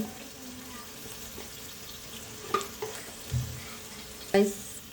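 Ground turmeric, chili, coriander and cumin powders sizzle softly in hot oil in a home kitchen, a low steady frying hiss broken by a few scraping stirs and clinks near the end.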